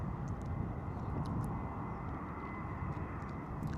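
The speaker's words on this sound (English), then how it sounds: "But A321neo coming in, Wizz Air should have the Abu Dhabi text on the back" A Wizz Air Airbus A321neo coming in to land, a steady broad jet roar held at a constant, fairly loud level, heard from outdoors without pause.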